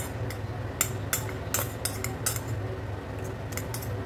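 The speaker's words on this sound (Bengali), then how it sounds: "এই আম দুটোকে একটু এই হাতার উল্টো পিঠ দিয়ে এইভাবে ম্যাশ করে নিচ্ছি" The back of a metal ladle mashes raw mango pieces in a bowl, giving a series of sharp, close taps and scrapes in an irregular rhythm over a low steady hum.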